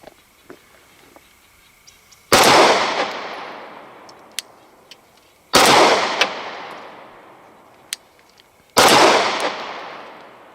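Three loud, sharp Glock 19 pistol shots ring out a few seconds apart at close range, each followed by a long echoing decay, with faint small clicks between them.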